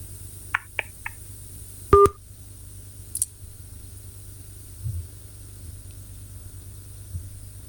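A brief electronic dialing tone sounds twice close together on a radio broadcast line, preceded by a few faint chirps and followed by a steady low hum and quiet line noise.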